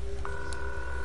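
Phone dialing on a flip phone in the PS4 horror game The Coma 2: Vicious Sisters, a short electronic beep over a steady hum of game background audio, close and clear with no talking.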